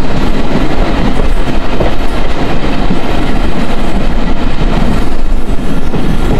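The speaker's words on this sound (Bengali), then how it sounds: "ঝকঝক ঝকঝক শব্দটি কিন্তু শোনা যাচ্ছে এখন, কারণ ট্রেনের আস্তে আস্তে গতি বাড়ছে এখন।" A passenger train between Mongla and Benapole, heard from on board, rattles loudly and continuously on the tracks as it gathers speed, with a dense rumble and rhythmic clattering of the wheels close by.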